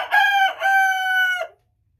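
A 12-to-14-week-old American Bresse cockerel gives one loud crow up close. The call comes in stuttered opening bursts and then a held note, and it ends sharply, leaving quiet.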